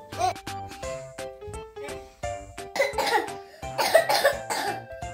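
A woman coughs sharply in several bursts, close up, with a voice and other voices talking around them.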